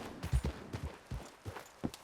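Horse hooves clop in Red Dead Redemption 2, a few uneven low thuds spread across two seconds, fairly quiet and close.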